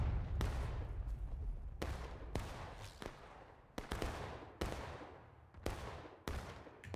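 Gunshots ring out in War of Rights, about seven sharp, heavy reports fired one after another at uneven intervals, each followed by a long booming decay.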